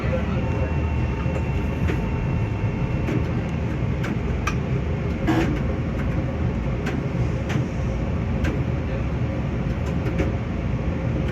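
A Long Island Rail Road train on the Ronkonkoma to Jamaica run, heard from behind the cab, rumbles along with a steady loud roar and occasional sharp clicks and clacks from the track.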